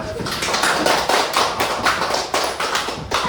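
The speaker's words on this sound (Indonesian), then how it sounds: "Kita beri tepuk tangan." Classroom applause in a teacher-training lesson: a steady run of quick, sharp claps from a group of students, close and fairly loud, continuing evenly for several seconds without talk.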